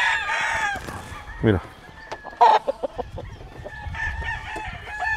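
A Brown Red gamecock rooster crows loudly nearby, with a few clucks and short bursts of other fowl sounds around it as someone speaks briefly in Spanish.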